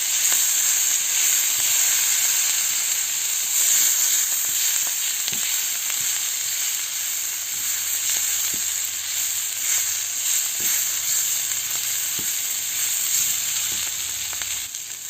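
A chickpea flour and cilantro mixture sizzles in a hot pan, a steady bright hiss that holds loud and even, with occasional light stirring clicks and no voices.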